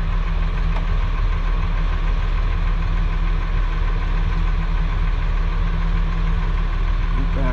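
An excavator's diesel engine rumbles loud and constant, idling with a steady knocking throb for the whole stretch.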